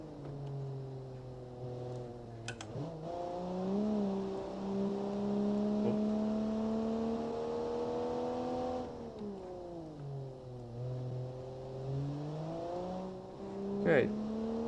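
A BMW 90s family car in a BeamNG driving game hums and rises in pitch as it accelerates, with gear-change dips and steady tonal engine harmonics running throughout, close and moderately loud.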